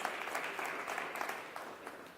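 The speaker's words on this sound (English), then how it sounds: "A round of applause for Go Gaga" A conference audience at a digital and technology week applauds the event organisers, a Go Gaga experiential agency. The clapping is moderate and somewhat distant, with distinct claps poking through, and it tapers slightly toward the end.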